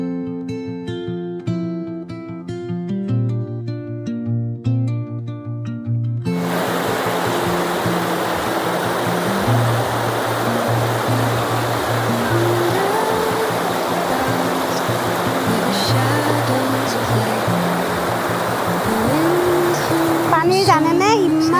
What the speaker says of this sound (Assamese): জানেনে ইমান ঢৌ আছে